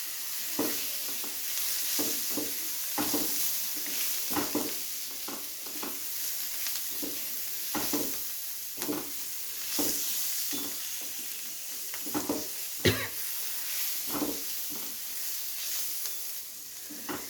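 Sliced ginger and onions being stirred while frying for paneer butter masala, a continuous sizzle punctuated by regular scraping strokes of a spoon in the pan, close and steady.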